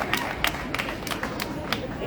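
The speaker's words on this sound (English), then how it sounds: "Another round of applause." Scattered audience clapping rises from a room full of murmuring people, with a handful of sharp, uneven claps standing out over steady crowd chatter.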